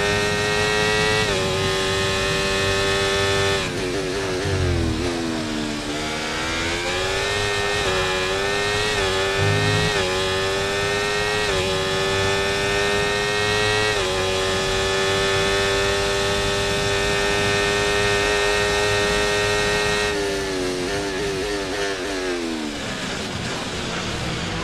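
A Formula 1 race car engine in the F1 24 video game, running too hot, screams loudly and continuously with a high-pitched whine, rising and falling as the car shifts through gears.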